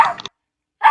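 A pet dog gives two short, loud barks up close, separated by a brief silence.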